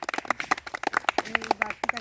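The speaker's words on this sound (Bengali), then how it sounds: "তো সবাই একটু হাততালি দেন।" An audience claps at an orphanage home opening ceremony, scattered uneven hand claps close by with a voice speaking faintly underneath.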